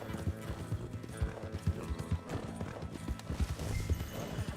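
Horse hooves clip-clop at a steady gallop in the open plains of the Red Dead Redemption 2 video game, with an occasional neigh rising over the rhythmic pounding, loud and close throughout.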